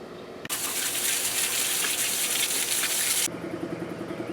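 A water hose sprays oven cleaner off engine parts from a 1973 C10 350 build, starting with a sharp click and then a loud, steady hissing gush that cuts off abruptly, leaving a low background hum.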